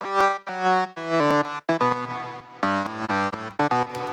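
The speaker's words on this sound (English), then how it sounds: "The next lead right here is this deeper lead." A deep synth lead, one octave below another lead, plays a choppy melodic line of short and sustained notes, bright and buzzy with strong harmonics, alone with no voices.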